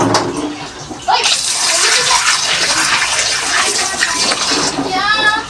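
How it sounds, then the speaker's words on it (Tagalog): Kadyos beans being rinsed in water, with a steady broadband splashing and running-water wash that starts about a second in and continues loudly to the end, and a brief voice near the close. "Banlawan natin ito, guys."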